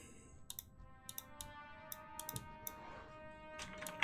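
Computer keyboard typing with scattered sharp mouse clicks, close and fairly quiet, during a Protection Paladin leveling session on the Frostmourne server; irregular bursts of keystrokes with faint background hum and no talking.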